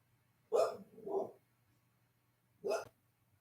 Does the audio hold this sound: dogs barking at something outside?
yes